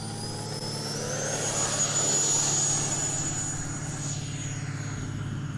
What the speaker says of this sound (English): I hear a plane in the background.